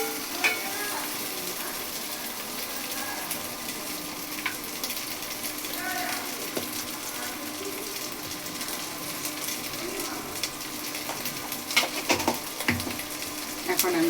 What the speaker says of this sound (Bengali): একটু টমেটো দিয়ে দিলাম, একটু ভেজে নিব